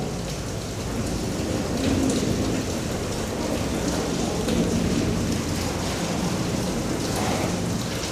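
Rain pours during a thunderstorm, a continuous, even hiss of falling water with soft low rumbles swelling now and then, fairly distant and unbroken by voices.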